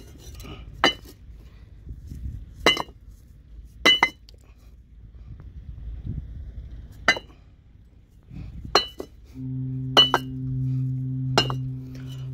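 Fired clay bricks from a brick field in Bangladesh, some soaked by rain, are knocked together in about eight sharp, ringing clinks spaced apart, with a low hum entering near the end.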